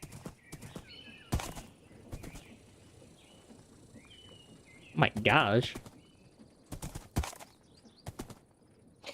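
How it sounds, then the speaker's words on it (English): Hooves of a horse ridden along railway tracks in an industrial-era Western video game: irregular hoof knocks scattered through the clip, with a short neigh in the middle and someone talking over it. "Riding on the railway tracks on a horse."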